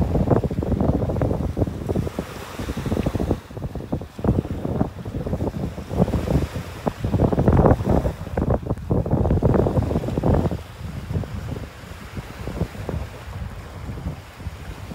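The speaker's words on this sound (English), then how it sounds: "Really breezy up here." Strong, gusty wind buffets the microphone at a breezy beach pass in North Naples, Florida, with ocean waves and surf rolling underneath in steady, loud bursts throughout.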